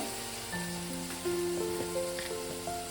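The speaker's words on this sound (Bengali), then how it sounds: "আমি আরও মিনিট 3-4 মশলাটাকে ভালো করে কষিয়ে নেব।" A masala of onion, ginger, garlic and tomato sizzles steadily in a pan for Bengali dhaba-style chana masala, a soft frying hiss running underneath sustained melodic music tones throughout.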